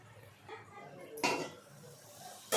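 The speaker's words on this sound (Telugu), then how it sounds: "ఒక 2 నిమిషాలు ఉడకనిద్దాం మూత పెట్టేసి." A metal lid clanks down onto a cooking pot of Nellore-style curry, one sharp close knock with a brief rattle, followed by a faint second clink at the end over quiet kitchen background.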